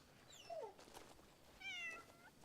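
Video game cat gives two short, clear meows about a second apart, the second higher and more drawn out, heard over a faint background hiss.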